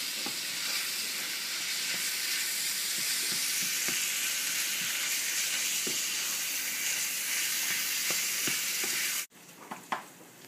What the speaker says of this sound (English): since I've put in the Italian sausage, you have to make sure that it's cooked all of the way